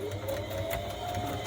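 A sewing machine runs steadily as it stitches across fabric, a close, continuous mechanical whir with a faint rising tone throughout.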